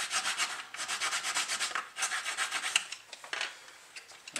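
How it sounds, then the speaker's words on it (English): Close rhythmic rasping of sanding on the wooden gun ports of a Black Pearl model ship, steady back-and-forth strokes with a few short breaks. "I'm just finishing up sanding off the gun ports."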